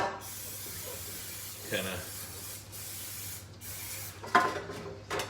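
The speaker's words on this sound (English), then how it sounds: "I'm actually gonna spray the pan down." Cooking spray hisses from a can onto a pan in short bursts, a close, soft airy spray heard in a few separate puffs during a kitchen recipe.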